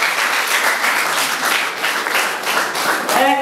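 A live audience at a talent competition event claps in a dense, sustained burst of applause, loud and near, with a voice rising briefly near the end.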